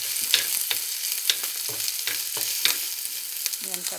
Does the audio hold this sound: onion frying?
yes